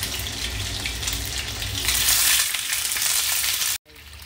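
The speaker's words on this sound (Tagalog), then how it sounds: "bali piprito ko na yung isda. Medyo matalsik siya kasi matubig" Watery fish for fish sarciado fries in a hot pan with a loud, dense crackling sizzle and spatter that swells midway, then cuts off abruptly near the end before resuming.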